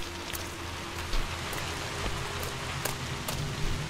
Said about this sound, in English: Hey, don't mind the rain?